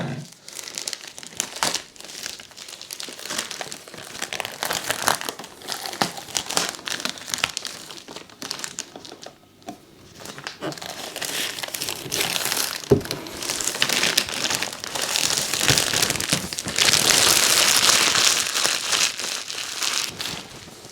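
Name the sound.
removing cellophane covering from a Cricut Maker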